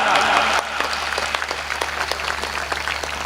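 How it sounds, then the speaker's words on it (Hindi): Audience clapping in a wedding pavilion crowd, dense loud applause at first, then thinning into scattered, uneven claps as it continues, with a faint hum beneath. "ताली बजाएं एक बार पूरा पंडाल।"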